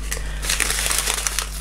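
A plastic bag crinkles close to the microphone while a diamond painting kit is unboxed, with irregular rustles and sharp crackles over a low steady hum.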